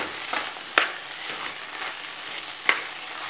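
Beetroot halwa with cardamom powder being stirred in a pan, a soft steady sizzle with two sharp spoon scrapes against the metal standing out above the hiss.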